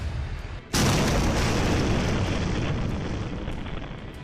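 A missile strike explosion in Dimona, Israel, hits with a sudden, very loud broadband blast after a brief quiet moment, followed by a sustained roaring rumble and debris noise that slowly fades.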